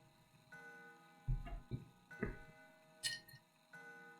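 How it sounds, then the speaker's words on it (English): Antique grandfather clock in a dim, silent house in the horror game Spirit Hunter: Death Mark, with a few sparse, separate knocks and ticks rising over a faint steady hum, fairly close and with no voices. "It's an antique grandfather clock."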